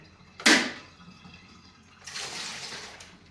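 About 0.7 liters of water pours in two bursts, a sharp splash followed after a pause by a softer, longer rushing pour, close by.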